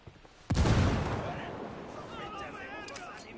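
A fragmentation grenade detonates in the video game Ghost Recon Wildlands: one sudden loud close blast, then a long rumbling decay with debris, and faint voices afterward.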